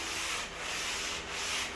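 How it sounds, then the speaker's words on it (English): Steady, continuous scratchy hand-sanding of a wood floor inside a bus, close and even, with slight rhythmic swells from back-and-forth strokes. "Some things to know when you're sanding, especially a floor like this."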